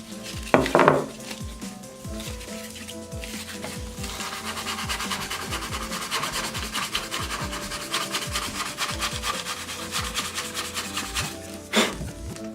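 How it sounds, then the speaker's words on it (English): Guitar headstock wood being hand sanded to 320 grit, a steady rasping rub that runs throughout, close and continuous, with a few sharper knocks near the start and end. "And I'll just hand sand that to 320 just to get it as smooth as possible."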